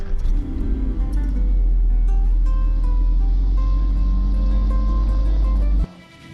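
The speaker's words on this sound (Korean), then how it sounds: "미끄러지는 그런 브레이크 소리라든가 주행 소리" An AI-generated car drives on a snowy road with a strong, continuous low engine rumble, layered road and tyre noise and some music, until the sound drops away abruptly near the end.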